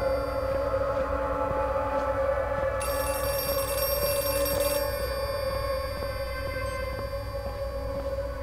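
A phone rings in the horror video game Outlast 2, a sustained electronic ringing tone with steady pitch that continues throughout, loud and prominent over a low, dark ambient background, with no talking.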